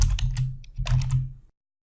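Fingers type on a computer keyboard up close, a quick flurry of light clicking keystrokes in two short bursts before cutting to silence.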